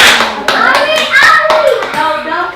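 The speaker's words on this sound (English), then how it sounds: "don't clap because that was bad" A Twi language class clapping hands, sharp claps close by that are heard at irregular intervals, mixed in with children's voices and talk.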